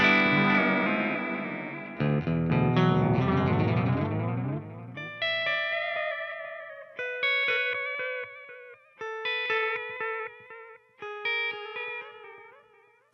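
An electric guitar runs through a Walrus Audio Mako D1 delay pedal at extreme modulated settings: a strummed chord swells into warbling, pitch-wobbling repeats, then single picked notes ring out with chorus-like shimmer and trailing echoes.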